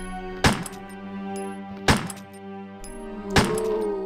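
Three sharp, heavy gunshots go off in the Resident Evil video game, each a loud percussive crack with a ringing tail, spaced about a second and a half apart against a steady low game drone.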